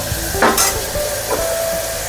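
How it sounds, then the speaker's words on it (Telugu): Onions frying in a pan for a mutton leg curry, giving a steady sizzle with a few clinks and scrapes of stirring, close and without talk. "ఉల్లిగడ్డలు ఎర్రగా గోలించుకోవాలి"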